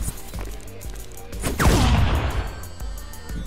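Gunfire from a gun in the Stick Fight video game, a few sharp shots followed by a loud burst with a sweeping whine, then quieter scattered pops.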